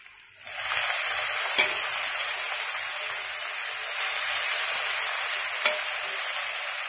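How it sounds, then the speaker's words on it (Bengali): Banana stem, salted and coated in turmeric, drops into hot oil and erupts into a loud, close sizzle after a brief quiet start, holding as a continuous hiss with a couple of faint knocks. "এইবার আমি এই থরটা এই তেলের মধ্যে দিয়ে দিচ্ছি"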